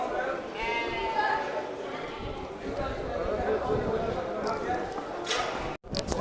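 Goats bleating repeatedly at a busy outdoor livestock market, with a steady murmur of people talking in the background.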